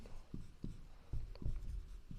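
Pen writing by hand on paper during a maths lesson, a series of soft, close scratchy strokes in short bursts with brief pauses, quiet and without voices.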